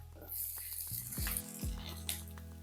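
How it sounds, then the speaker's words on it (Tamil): Shallots and garlic sautéing in a pan for a Tamil fish gravy, a steady sizzle with clinks and scrapes of stirring over a low background hum. "பாருங்கள், இந்த வெங்காயம் வதங்கட்டும்"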